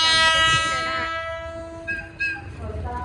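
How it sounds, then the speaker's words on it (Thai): A Hitachi diesel locomotive, number 4510, hauling rapid train 135 from Bangkok to Ubon Ratchathani into Nakhon Ratchasima station, sounds a sustained, loud horn with steady tones, followed by fainter rail and station noise. "ขบวนรถเร็วขบวนที่หนึ่งสามห้า กรุงเทพอุบลราชธานี จะเข้าจอดสถานีรถไฟนครราชสีมานะครับ"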